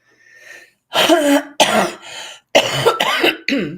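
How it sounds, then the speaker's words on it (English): A close, harsh coughing fit: several loud, rasping coughs in quick bursts, separated by short pauses. "Maybe I should just go on mute while I cough"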